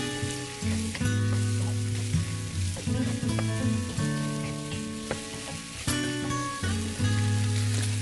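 Green pepper and vegetables stir-fried with shrimp in a pan, loud close sizzling with repeated scraping and clinking of a utensil stirring throughout, no talking.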